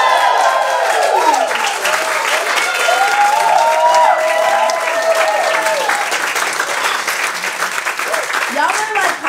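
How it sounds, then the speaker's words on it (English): Loud, sustained applause and cheering from an audience at a poetry reading, dense clapping with whoops and shouts throughout, continuous for the whole stretch. "Y'all are like hyping me up mad heavy right now with this applause."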